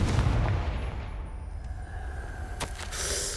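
A Confringo fire spell from Hogwarts Legacy on PS5 goes off as a heavy, rumbling blast, loud at the start and then trailing into a sustained booming roar with a sharp crack near the end.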